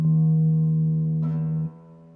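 A single low plucked string rings out steadily, then a second pluck lands near the end before the tone fades quickly.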